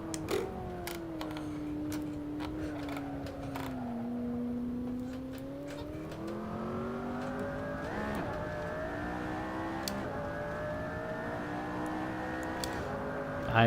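A Maserati GT4 race car engine in Assetto Corsa Competizione revs steadily through the gears at Indianapolis, pitch rising and dipping with a shift, tinny and continuous, with faint clicks and someone talking quietly over it.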